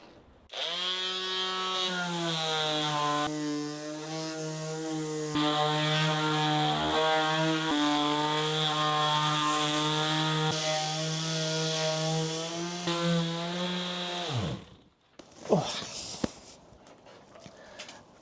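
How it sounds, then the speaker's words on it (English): A power sander grinds a painting back down to its wooden board, giving a steady, loud droning buzz for about fourteen seconds before cutting off, followed by a few short handling knocks. "I'm just going to sand this entire piece back to the board"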